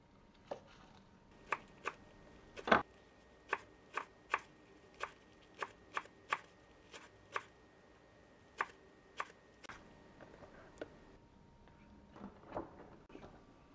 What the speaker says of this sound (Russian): Измельчу зеленый лук.